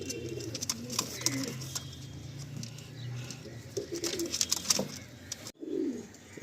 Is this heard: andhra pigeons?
yes